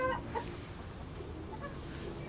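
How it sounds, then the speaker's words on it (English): Chickens cluck softly in short, scattered calls against quiet outdoor background noise, with no one talking. "there's some chickens"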